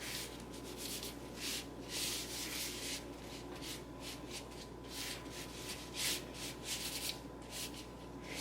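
Granola mixture is pushed and spread across a baking pan with repeated soft scraping strokes, a faint close rhythmic rubbing with no talking.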